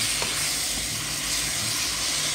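Sliced bell peppers sizzle in a hot pan, making a steady, bright, close hiss that holds evenly throughout with a faint click early on and no voices.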